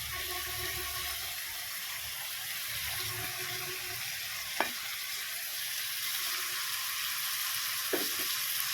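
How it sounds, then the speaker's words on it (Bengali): Boiled chow mein noodles with chicken sizzle steadily in a hot pan over a gas flame, with a soft constant fry and a couple of sharp utensil clicks against the pan, fairly quiet and close. "এবারে আমি এই যে সিদ্ধ করে রাখা চাউমিনটাকে এবার এর মধ্যে আমি দিয়ে দেবো"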